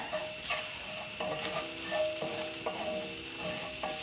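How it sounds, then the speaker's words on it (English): Onions and spices, including cumin, garlic powder and black pepper, sizzling in a pan while being stirred, with a steady frying hiss and intermittent scraping clicks of the utensil against the pan, close up and without speech. "Add in a little bit of black pepper. Stir in."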